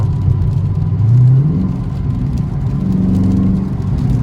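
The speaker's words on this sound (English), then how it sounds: "I'm driving in the rain." A 530-horsepower Dodge Scat Pack cruises through rain with a steady, low engine drone and a whirring road rumble. The pitch rises briefly as the car accelerates a little, and no voices are heard.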